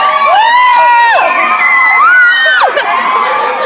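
A comic con crowd whoops and cheers, with high shrieking voices rising and falling in loud repeated swells, close and energetic.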